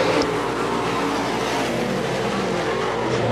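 Dirt track crate late model race cars roar together around a speedway oval in a steady, dense engine drone heard from a distance, loud and continuous with no talk.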